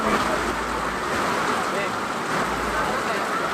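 Heavy rain pours steadily outside a busy bibingka stall where customers keep queuing, a dense unbroken hiss close by, with a faint undercurrent of traffic and voices.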